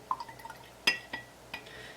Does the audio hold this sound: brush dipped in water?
yes